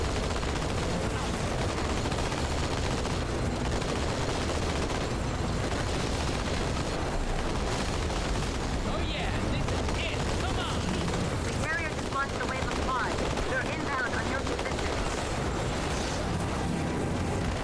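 Dense, continuous gunfire and explosions from Halo 2: Anniversary rattle and boom without pause, loud and close, with voices talking underneath the firefight.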